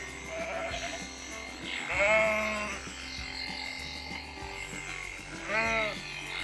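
Sheep on an Irish farm bleat several times, the wavering calls loud and close, set against a steady background hum and low rumbling.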